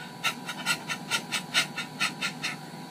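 A voice imitates a dog's panting as a breathing warm-up before singing: about a dozen quick, even, breathy puffs in steady rhythm, close and clear with no other sound.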